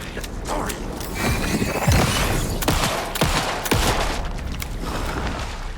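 Repeated gunshots in the horror game Alan Wake II, loud and close, with several sharp booming reports spaced about a second apart over a rumbling, creaking background.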